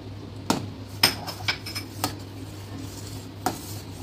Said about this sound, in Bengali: সমানে এইভাবে নাড়তে থাকবো।